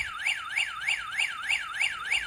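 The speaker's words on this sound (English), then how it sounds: "It just does an alarm non-stop." A wireless doorbell in alarm mode gives a rapid repeating electronic siren, a high whooping tone that rises and falls about three times a second, loud and continuous with nothing else heard.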